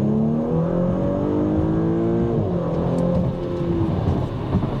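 An Audi B9 engine revving hard on a full-throttle pull, loud and close with a steadily climbing engine note that briefly dips at a gear change before rising again, with no talking over it.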